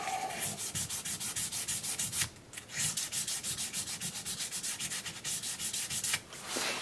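Rhythmic back-and-forth sanding of guitar frets with fine-grit abrasive, close and steady rasping strokes repeating quickly with a couple of brief pauses, no voices.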